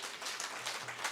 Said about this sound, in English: let's really clap for ourselves